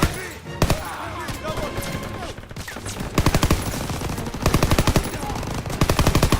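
Call of Duty WW2 battle gunfire: loud, dense rapid-fire bursts of machine guns and rifles, repeating in rattling volleys over a constant roar of combat, with faint voices in the mix.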